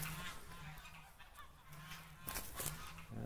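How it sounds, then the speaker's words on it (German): Geese being herded into their shelter honk repeatedly in loud, overlapping bursts, a raucous chorus from close by outdoors. "Der Nachbar sperrt gerade seine Gänse ein. Deswegen ist das jetzt sehr, sehr laut hier."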